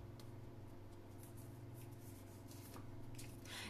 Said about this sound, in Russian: Я также три карты достаю.